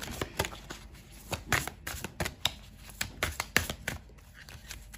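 A tarot deck is shuffled and a card is drawn, giving rapid, close riffling card flicks and soft slaps in uneven bursts, quiet and without speech.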